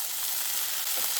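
Onion and tomato sautéing in a pan for a snake gourd kootu, a short, even hiss of frying with no other sounds.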